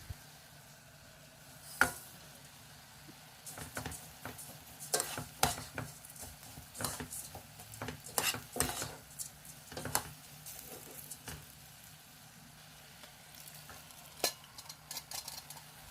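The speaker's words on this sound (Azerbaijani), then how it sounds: "Üzərinə düyünü, 1 stəkan yarım qovrulmuş xırda vermişili və bişmiş mərciməyi əlavə edirəm." Rice, toasted fine vermicelli and cooked lentils stirred into fried onions in a pot, with scraping and clattering of a spoon against the pot, irregular bursts over a faint sizzle, close by.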